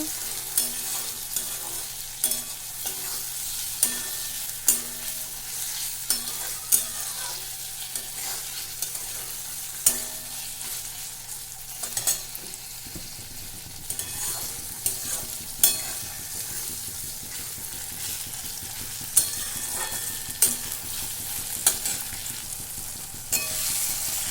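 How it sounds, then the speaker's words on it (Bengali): Chicken curry with tomatoes being stirred and fried in a pan, a continuous close sizzle punctuated by regular sharp clicks and scrapes of the spoon against the pan. "এরপরে এটা নাড়ে নেব, কষিয়ে নেব একটু টমেটো গলা পর্যন্ত"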